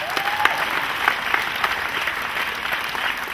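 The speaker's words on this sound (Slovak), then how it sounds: "poprosím veľký potlesk" Sustained applause from a premiere audience for the 2015 Slovak film "Sídliskový sen", dense steady clapping throughout with a brief whistle near the start.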